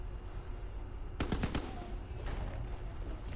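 A rapid burst of gunfire in the Zombies video game, several sharp shots clustered together, followed by a couple of fainter shots over a steady background hum.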